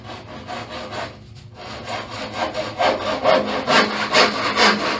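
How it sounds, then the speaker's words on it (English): A handsaw cuts through thin-wall PVC pipe in quick back-and-forth strokes, the rasping rhythm close and growing louder and faster after a brief pause. "I'm going to hack this real quick with my handsaw"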